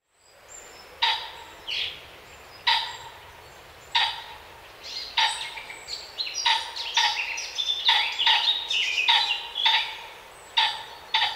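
A pheasant calls repeatedly outdoors, with sharp, clear bird calls coming in separate bursts and then quicker, overlapping runs, fairly close and heard alone.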